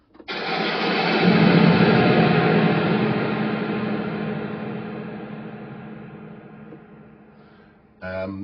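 A big thunderclap with heavy reverb swells into a sustained, reverberant roar that gradually fades away, with a short burst of another sound at the very end.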